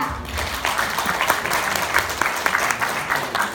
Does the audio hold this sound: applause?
yes